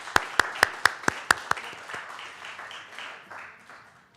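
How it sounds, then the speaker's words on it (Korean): A church congregation gives a round of applause during a Sunday worship service, starting with seven sharp, evenly spaced claps and then dissolving into a softer, fading patter of scattered clapping. "기도 용사들께 큰 박수 부탁드립니다."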